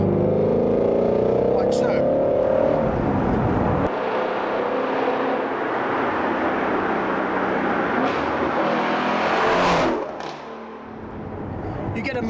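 A Ford Mustang GT350 accelerates hard, its engine note rising in pitch and holding a loud roar from inside the cabin, then easing off near the end while someone talks over it.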